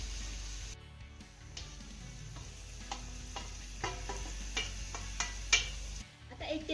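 Vermicelli is stirred into fried spices in a pan, with quiet scraping and several light taps of the spoon against the pan over a low background hum.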